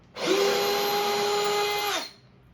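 Ridgid 18-volt subcompact drill backing out a 1.5-inch screw, one steady high motor whine lasting about two seconds with a clean start and stop, close and loud.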